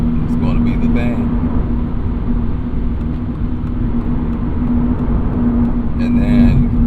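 Inside a Toyota GR86 on the move, steady loud low road roar and tire rumble persist throughout with a constant engine hum, while someone talks over it.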